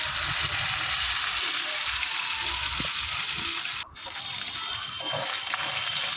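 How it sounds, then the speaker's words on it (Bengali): Pieces of katla fish frying in hot oil for doi katla, a dense continuous hiss and bubbling sizzle that briefly dips midway and then resumes, close and fairly loud with no talking. "এগুলো ভাজা হতে থাক।"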